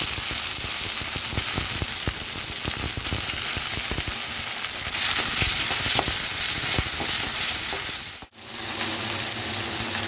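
Tomato, onion and garlic sauté in a hot pan, producing a dense, continuous sizzle with crackling pops throughout, close and loud, with a brief dip near the end and no voices.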